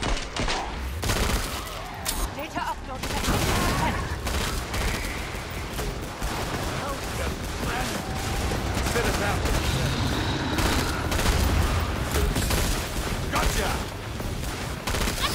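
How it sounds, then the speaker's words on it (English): Rapid grenade-launcher fire and blasts from the medic grenade launcher in Killing Floor 2, a dense continuous barrage of shots and booms mixed with other gunfire throughout, with voices talking over it. "someone's got the medic grenade launcher, I think"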